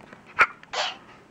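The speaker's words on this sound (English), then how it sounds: "You sneeze like a kitten." One short, high-pitched squeaky sneeze from the Talking Angela video game character, followed by a breathy hiss, close and fairly quiet.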